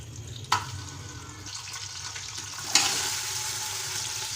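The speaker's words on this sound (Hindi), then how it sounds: "अब इसमें मैं ये गोश्त को डाल के 5 मिनट फ्राई करूंगी।" Beef sizzling as it fries in half a cup of oil in a pressure cooker for Pakistani beef karahi: a steady, faint frying hiss with a couple of sharper splutters near the start and toward the end.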